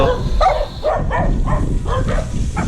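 Several barks from dogs at moderate distance, coming in short bursts roughly every half second over a steady low background hum.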